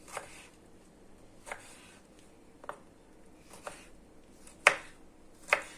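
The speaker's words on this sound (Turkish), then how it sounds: "Domatesimizi de doğrayalım." Sparse, irregular knife taps on a cutting board as tomatoes are diced, about six separate chops spaced a second or so apart, fairly quiet with no talking.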